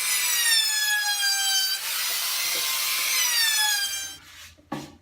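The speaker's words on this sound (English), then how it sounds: "I can go ahead and run my round over." A router fitted with a round-over bit cuts the edge of a pine guitar speaker cabinet: a loud, close, steady high whine with a grinding cut, shifting pitch, then spinning down and stopping near the end.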